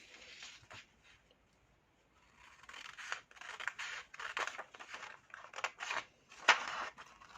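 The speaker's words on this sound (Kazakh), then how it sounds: "Осының барлығын алып енді қиып аламыз." Scissors cutting fabric for a pillowcase, a quiet pause and then a run of crisp, rhythmic snips that come close and fairly loud.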